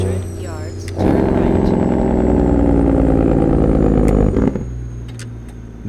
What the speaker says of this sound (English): Listen to this engine. This is what it's all about. Listen to that Jake brake here.